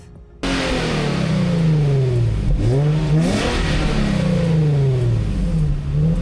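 A Nissan 350Z with stability control switched off revs hard and loud after a short quiet lead-in. The engine note climbs, falls and swells again in repeated sweeps, heard up close and without any voices.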